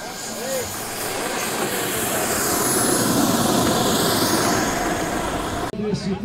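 A loud, steady roar from a jet aircraft engine or compressor runs continuously at a Brazilian airshow, broad and droning, cutting off abruptly near the end.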